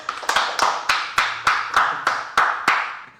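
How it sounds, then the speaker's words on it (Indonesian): Podcast hosts clap their hands in a studio discussing electronics schematics: about ten crisp, evenly spaced claps, close and clear, each with a short decay, with no talk over them. "Ntar saya sudah nggak tahan, pengen tepuk tangan dulu dong buat Koko."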